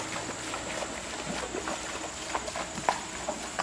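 Hooves of a Gold Champagne Walking Horse mare clop at a slow, uneven walking pace over soft ground, fairly quiet, with faint outdoor background noise.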